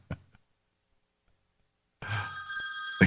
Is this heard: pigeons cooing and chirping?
no